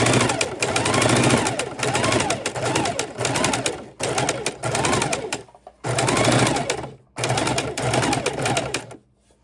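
Sewing machine stitching a wallet keychain purse at slow speed, close and loud in repeated bursts of rhythmic needle thumping separated by short pauses.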